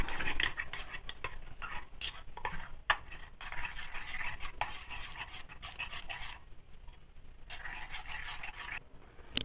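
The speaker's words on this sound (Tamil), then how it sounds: "வெங்காயம், மல்லித்தழை, பச்சை மிளகா இதை ஆட் பண்ணி நல்லா வந்து மிக்ஸ் பண்ணிக்கலாம்." Beaten egg being mixed with chopped onion, coriander and green chili in a bowl for a bread omelette, quick rhythmic clinking and stirring with brief pauses, close and fairly quiet.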